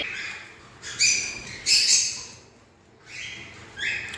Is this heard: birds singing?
yes